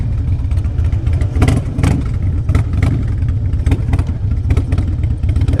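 A 2004 Harley Davidson Road King Custom engine running close by, a loud low rumbling throb with rhythmic pulsing and brief revs as the bike gets underway on a test ride.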